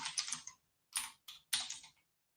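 Fast typing on a computer keyboard comes in short bursts of crisp, close clicks separated by brief pauses, with no talking, while setting up code.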